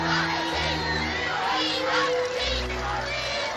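Thousands of people on the Mall in London, cheering and shouting as a vast crowd, a dense roaring wash of voices with whoops and calls, steady and loud throughout, with a few sustained tones from music or horns underneath.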